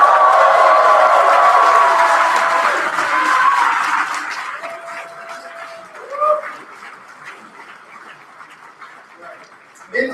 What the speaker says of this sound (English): Come on up, cheer loud.